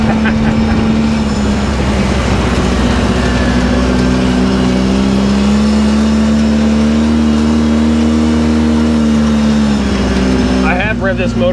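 A Polaris RZR 800S side-by-side driving slowly, its engine droning steadily at a low, even pitch up close with a slight rise and fall, as someone talks over it.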